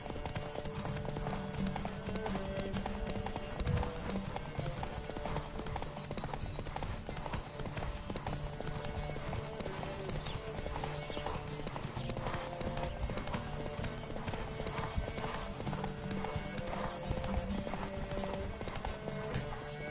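Steady rapid hoofbeats of a galloping horse in The Witcher 3: Wild Hunt, continuous and driving, layered over a busy background of music and ambient game sound.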